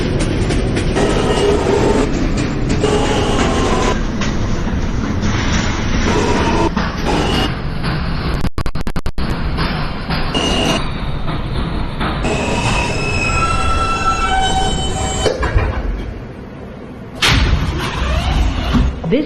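A Brooklyn-bound NYC subway J local train runs loud and close from the inside, with a sustained roar of wheels on rails, high squeals on curves and rhythmic clatter over track joints, briefly easing before picking up again.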